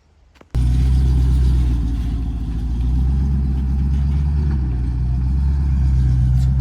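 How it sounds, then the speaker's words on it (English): Coal truck driving past a rural camping spot, its engine starting abruptly as a loud, close, low rumble that holds steady and heavy for several seconds without fading. "It's a coal truck."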